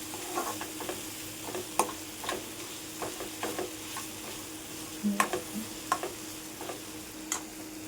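An onion and tomato masala fries in a pan over lowered heat, giving a soft steady sizzle broken by sharp clicks and scrapes of a spoon stirring against the pan.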